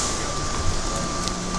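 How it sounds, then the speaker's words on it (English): Airport plane train, an automated people mover at Atlanta airport, rumbling steadily as it departs, with a constant electric hum and rolling noise throughout and no talk. "This train is departing."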